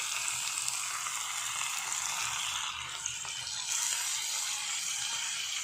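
Lai xaak greens added to pork frying in a pan, a steady, close, broad sizzle that holds evenly throughout with a slight dip midway.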